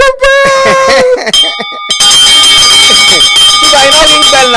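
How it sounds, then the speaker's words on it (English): A bell rung at a morning devotion, with loud ringing tones over the first second, then a pause and a dense, bright ringing that sustains to the end, close and loud. "I'm gonna ring the bell."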